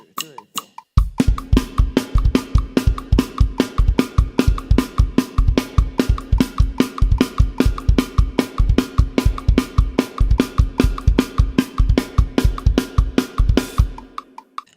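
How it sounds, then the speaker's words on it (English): Drum kit plays a fast punk rock beat at 150 bpm, with driving kick, snare and cymbal hits in a steady, loud, tight pattern after a brief count-in, then stopping. "I'll give you a bit of a demo how it sounds. This is 150 beats per minute."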